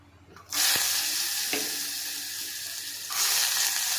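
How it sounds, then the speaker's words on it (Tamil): Cumin seeds frying in ghee, a steady close sizzle that swells suddenly after a quiet start, with a few soft clicks of stirring. "இப்போ வந்து சீரகம் பொரியுது."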